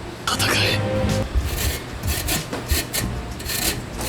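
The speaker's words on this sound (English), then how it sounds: "Next up is we're gonna grate the potatoes using this grater." Potatoes are grated on a hand grater for latkes, giving a close, rough rasping scrape in repeated strokes, with a person talking over the start.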